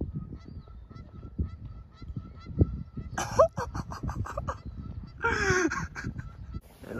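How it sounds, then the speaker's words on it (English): Geese honk outdoors on a golf course, a burst of loud overlapping calls at about three seconds and another longer flurry near five and a half seconds, over steady breezy background noise. "Hey, look at all these birds out here."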